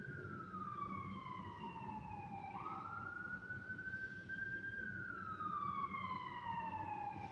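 Emergency sirens wail outside, fairly faint and distant, with a long falling sweep, a rise and a slow fall again, over a low background rumble.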